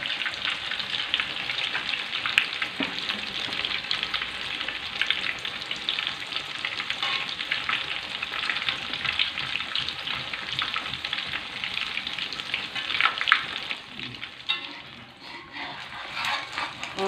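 A coconut-spiced omelette fries in a pan, a steady close sizzle and crackle of hot oil running continuously with occasional stirring sounds and no talk.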